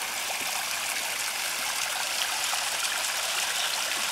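A garden water feature in a pond with fish, in the rain, gives a steady, continuous rush of trickling and splashing water, even and fairly close throughout with no voices.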